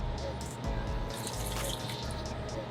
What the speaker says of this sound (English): I'm going to take my measuring cup. I'm going to add about a 1/4 cup of water.